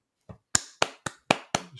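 A few people applaud with six or so sharp, close hand claps in a slow, fairly even rhythm.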